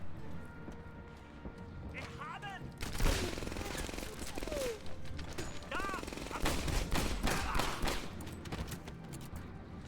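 Gunfire bursts and shots from the WWII shooter game Medal of Honor Airborne, with sharp cracks and rattling volleys amid battle noise, while a player talks over the action.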